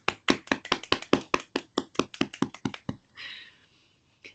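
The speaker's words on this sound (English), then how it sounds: "give a real round of applause" Applause from an unmuted online audience: about a dozen distinct sharp claps in a loose, steady rhythm, close and fairly loud, fading into a brief soft rustle with a single clap at the end.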